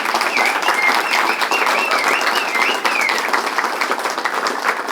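An audience gives sustained applause for the host's wife, dense, loud clapping that carries on evenly for the full stretch with a faint cheer rising above it.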